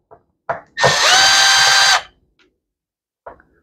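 A power driver with a Phillips bit whirs in one steady burst of a bit over a second while unscrewing a chainsaw carburetor, up close and loud, with brief clicks and taps before and after.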